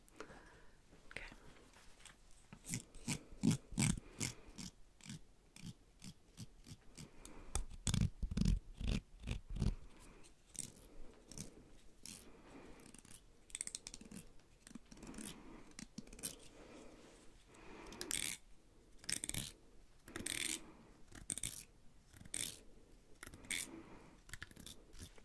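Barbershop scissors snip through hair in quick, close, quiet bursts, with soft rustling and faint whispered talk between the cuts.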